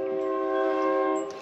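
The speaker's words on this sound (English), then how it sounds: "Excuse the train, guys. I apologize." A passing train near a house sounds a sustained, loud horn chord that holds steady and then tapers slightly, with no talk over it.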